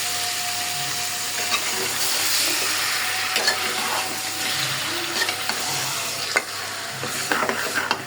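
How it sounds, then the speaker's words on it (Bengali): Spice-marinated meat sizzles steadily in a hot pan with onions, frying loudly and continuously while a utensil stirs and scrapes it at irregular moments, with no talking. "আমি এখন মশলা মাখায় রাখা মাংস দিয়ে দিলাম।"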